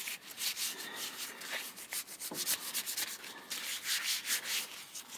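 A brush scrubs rust off an old Stanley chisel in steady, close, gritty back-and-forth rubbing strokes that keep going throughout with no talking.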